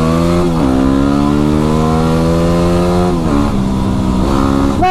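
A Yamaha WR250R dual-sport motorcycle engine revs close and loud on a night ride through woods, its pitch climbing steadily, then dipping at shifts or throttle changes before rising again.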